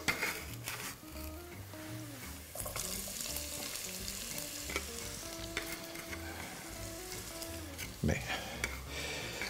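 Onion tipped into a pan for a Spanish potato and corvina stew, frying with a steady sizzle and scraping stirring strokes, heard beneath a bed of background music.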